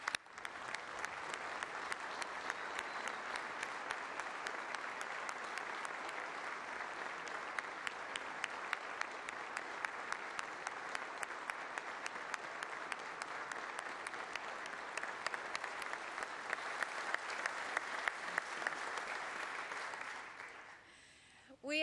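Sustained applause from a large crowd at South Carolina's State of the State address, dense steady clapping going on for about twenty seconds before tapering off at the end.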